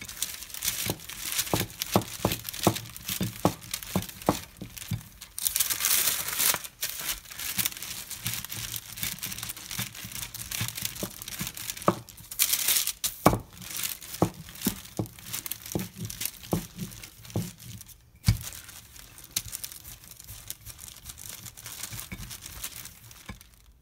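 Parchment paper crinkles and rustles in close, repeated bursts while vegan low-carb flatbread dough is rolled out on it, with no talking.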